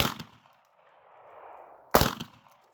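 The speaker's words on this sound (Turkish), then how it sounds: "İki fişek atacağım şu bidona." Two loud, sharp shots from a YNG Arms Revolver 36 fired at a barrel outdoors, separated by about two seconds, each with a short decaying tail and a faint hiss between them.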